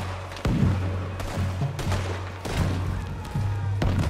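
Gunfire in the video game Red Dead Redemption, heard as several sharp shots spaced irregularly over a rumbling background with a low hum, loud and close.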